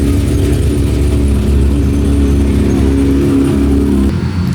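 A Lamborghini Huracan Technica rolls into a car show with a loud, steady engine drone and a rising rev, close and continuous for several seconds before it briefly drops off.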